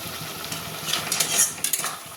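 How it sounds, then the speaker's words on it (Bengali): A utensil stirs and mixes a thick banana stem paste in a pan, making continuous soft scraping and clinking sounds close by, with light sizzling underneath. "এবার সব মিশিয়ে দিচ্ছি একটু ভালোভাবে কষে নিচ্ছি"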